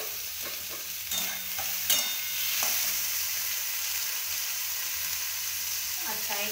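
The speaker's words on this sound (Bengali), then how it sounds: "এবার আমি সরু সরু করে কাটা এই টমেটোগুলো দিয়ে দিলাম তেলের উপর।" Thinly sliced tomatoes sizzling in hot oil in a pan for a street-food chicken kati roll, a steady close fry with several sharp clinks and scrapes of stirring.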